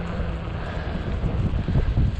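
Strong, freezing-cold October wind buffeting the microphone during an e-bike ride, a continuous low rumbling roar with gusty surges throughout.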